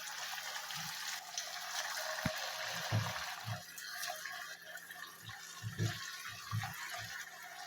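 Pieces of pitha dough are dropped one by one into hot oil and fry with a soft, continuous sizzle. Low thumps and small knocks sound close by.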